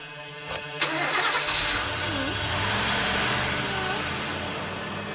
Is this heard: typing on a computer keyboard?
no